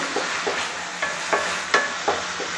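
Tomatoes fry in a pan for tomato rasam, a soft continuous sizzle broken by regular scraping strokes of a spoon stirring about every half second.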